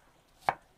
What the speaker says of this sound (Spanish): Lo cortamos por un lado y luego en el otro.